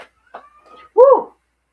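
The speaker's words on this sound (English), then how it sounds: "Can you guys hear my cat meow?" A house cat gives one short, clear meow with a rising then falling tone near the end, preceded by a few faint scattered sounds in an otherwise quiet room.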